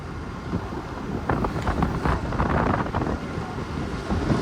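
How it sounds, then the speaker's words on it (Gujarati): Strong wind blows outdoors in Jammu and Kashmir, buffeting the microphone with a continuous low rumble that swells in gusts near the middle, with no voices. "આનો પવન જોઈને તમને લાગે કે નહીં આમ છે એમ પવન જ એવો છે"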